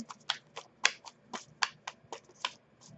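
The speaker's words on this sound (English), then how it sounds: "make sure you guys are seeing me do the shuffles" Tarot cards shuffled by hand in a quiet room, a series of about a dozen crisp riffling snaps in an uneven rhythm, close and fairly faint, with no talking.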